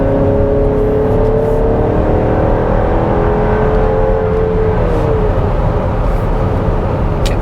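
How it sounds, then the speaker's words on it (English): A 2024 GMC Acadia Denali SUV engine roars loudly at full throttle, its pitch climbing steadily as it revs hard for several seconds, close and continuous. "So if I go ahead and floor it here. Punch it, Margaret!"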